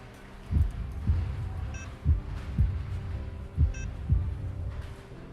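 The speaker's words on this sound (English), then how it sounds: "One clearly recognizes a slow heart rate, or heartbeat rather." A slow heartbeat in an ER simulator video game, paired low thumps repeating at an unhurried, even pace over a faint hum, with a couple of brief electronic blips.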